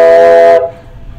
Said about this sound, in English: that was the train whistle on the back porch for you